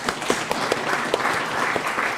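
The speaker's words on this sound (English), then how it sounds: "Let's give all ourselves a good round of applause" A seminar audience gives a round of applause, a dense, close burst of many hands clapping that holds steady for a couple of seconds.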